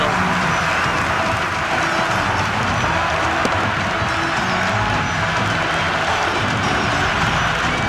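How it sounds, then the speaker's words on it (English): A loud, continuous roar of cheering and applause from a cricket stadium crowd in the video game Cricket 26, steady and dense for the whole stretch with no breaks. "It's the most enthusiastic crowd you could ever see right now."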